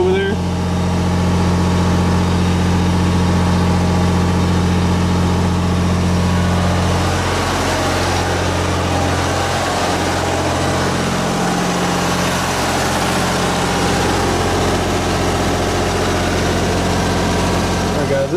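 A Miller 400D welder generator runs steadily under full load, a loud continuous low engine drone and hum that fills the whole stretch at close range.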